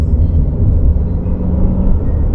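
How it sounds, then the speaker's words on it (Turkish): A Volkswagen Passat B8.5 in sport mode accelerating under partial throttle, giving a steady, loud low engine rumble from inside the cabin with no break in the sound. "Şu an dip gaz yapmadan yükleniyor."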